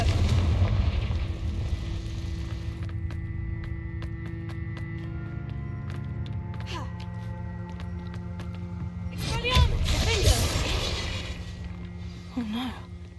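Confringo fire spell blast in the game Hogwarts Legacy, a booming explosive burst over a low rumbling game soundscape, with a louder flare of blasts near the end.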